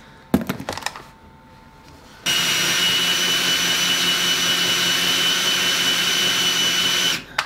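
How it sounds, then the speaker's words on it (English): A Ryobi power tool spins a Dana 30 differential gear set with 4.88 Elite Gears, starting with a few clicks and then whirring at a steady loud whine for about five seconds before stopping. "I'm going to use the Ryobi actually and do it that way."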